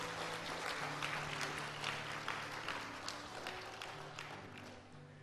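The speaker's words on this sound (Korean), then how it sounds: "건우에게 세상에 잘 왔다고 박수 한번 주시기 바랍니다" A church congregation in New Jersey applauds during a Sunday service to welcome a newborn baby boy, a steady, diffuse wash of many hands clapping that fills the room and fades slightly toward the end, with no talking over it.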